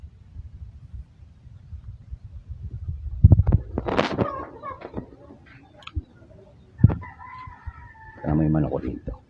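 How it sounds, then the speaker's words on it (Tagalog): Chickens cluck and squawk in bursts over low rumbling background noise, with a rooster-like call near the end. "Kaya may manok ko dito."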